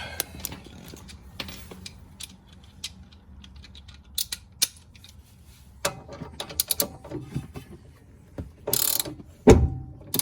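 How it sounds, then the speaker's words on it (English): A hand ratchet turning the bolt on a Porsche 986 Boxster sway bar link, heard as scattered, quiet clicks and metallic taps close by with short pauses and a few sharper knocks near the end. "switch over to the ratchet."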